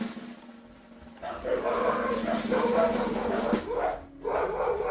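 A dog barks a few times nearby, mixed in with people talking and moving around in a room.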